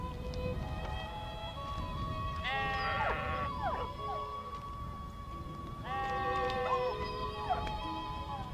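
Sheep bleat in two clusters of wavering, overlapping cries, loud and fairly close, over a constant low background murmur.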